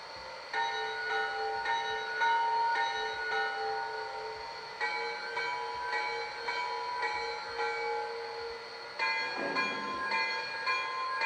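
A locomotive bell on a Lionel Visionline Hudson 5344 model locomotive rings steadily in a repeating metallic clang, moderately loud, with a faint mechanical rumble beneath it.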